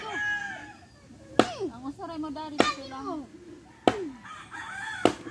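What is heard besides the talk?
chicken crowing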